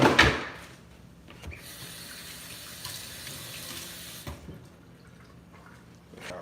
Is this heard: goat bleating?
no